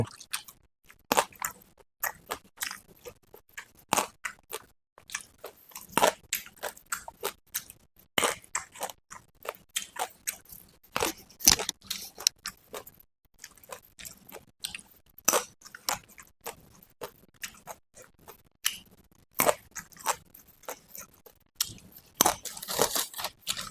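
Crunchy chewing and biting of grilled pea eggplant, eaten with mala-style barbecue: close, irregular crisp crunches and squishy bites repeating steadily throughout, with no talking.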